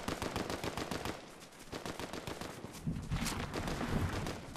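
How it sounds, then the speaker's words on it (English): Distant gunfire in the Fortnite video game, rapid automatic bursts in quick rhythm, fairly faint and steady. "Guys, there are gunshots that way."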